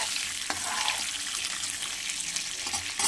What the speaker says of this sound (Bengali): এবারে এই যে বেগুনটা আমার হালকা হালকা ভাজা হচ্ছে